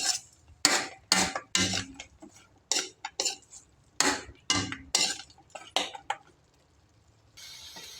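A spoon stirs and knocks against a metal pot of goat stew with seasoning, giving a run of irregular clanks and scrapes close up, then a quieter stretch with a soft hiss at the end.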